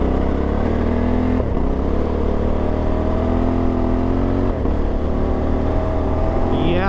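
Honda Africa Twin 1100 adventure motorcycle ridden off-road, its engine loud and close, revving up and down through the gears with steady rising and falling pitch and wind noise.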